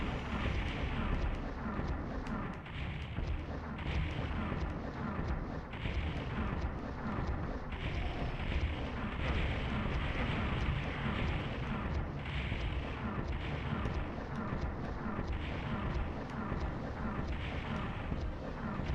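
Rockets fire and explode in the PS1 version of Doom, making a dense, continuous barrage of booming blasts and rumbling detonations with no quiet gaps between them.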